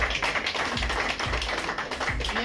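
Steady applause from an indoor gathering of LIC SC/ST Buddhist employees planning Constitution Day, honouring Gulam Singh ji; dense, continuous clapping with a few heavier low thumps, fairly close and unbroken.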